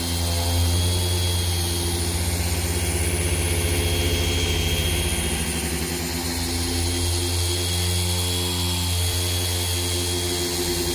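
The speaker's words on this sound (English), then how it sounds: "You'll learn how to manipulate the buffer as you go along." A car polishing buffer runs continuously at close range, a steady droning whine with a low motor hum and no pauses.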